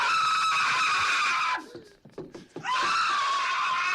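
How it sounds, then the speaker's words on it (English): A man screams loudly in a comedy film scene, a sustained high-pitched yell that breaks briefly in the middle, then resumes at full strength. "my choice is a man pulling off a legitimate scream"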